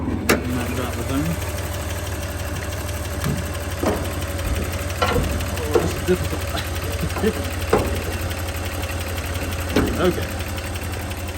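A 1989 Toyota Land Cruiser FJ62 engine idles steadily with the hood open, a light repetitive ticking riding over the low rumble, while a person talks briefly nearby.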